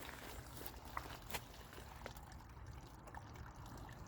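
Water trickles and splashes steadily, fairly faint, with a low background rumble of distant traffic and a few small clicks.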